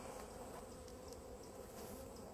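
Honeybees buzz in a steady, close drone at a beehive, a continuous insect hum with no pauses or voices.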